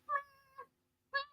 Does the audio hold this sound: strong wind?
no